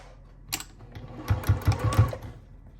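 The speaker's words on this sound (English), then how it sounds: "And then you're going to start your stitching again." A sewing machine stitches quilt binding in a short close burst of about five rapid thumping stitches, preceded by a single click, in an otherwise quiet room.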